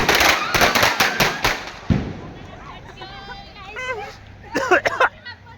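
Several sharp firecracker bangs in quick succession at Diwali, followed by crackling and whistling bursts, with voices and excited chatter around them.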